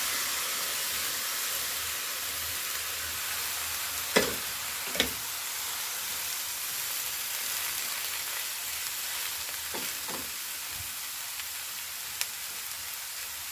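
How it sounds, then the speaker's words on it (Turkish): Boiled green beans hit a hot pan and are stirred, producing a continuous soft sizzle with a few sharp scraping clatters of the utensil against the pan scattered across the stretch. "Şimdi üzerine haşladığım yeşil fasulyeyi ekliyorum."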